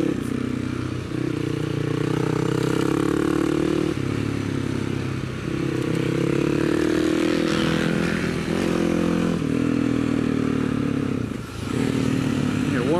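Motorcycle riding at speed on the VIR race track, a steady loud engine drone with shifting pitch as it rises and falls through gears, wind noise throughout.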